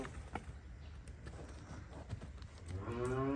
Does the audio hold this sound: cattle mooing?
yes